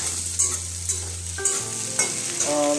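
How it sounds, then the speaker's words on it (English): Potatoes sizzle and crackle frying in hot oil, with occasional stirring scrapes and a low hum running underneath. "I started frying potatoes for"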